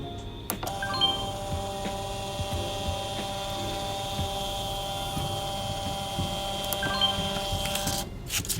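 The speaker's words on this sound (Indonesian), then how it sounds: "Kemudian kita ambil 5 siklus, kita print." A printer feeds out a strip of five ECG cycles generated by a Fluke PS410 cardiac and arrhythmia simulator, a quiet, steady mechanical whine with faint ticks over a constant electrical hum, no voices.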